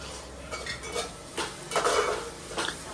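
A spoon scrapes and clinks against a pan while ketchup sauce is mixed into a Manchurian gravy, several short metallic strokes over a low kitchen hum.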